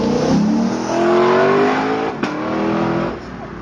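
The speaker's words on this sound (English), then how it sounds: "That 5-litre V8 sounded absolutely superb" A brand new Lexus LC500 with a 5-litre V8 revs hard on a track demonstration, loud and close, its pitch sweeping upward through gear changes with a brief sharp shift crack midway before easing off.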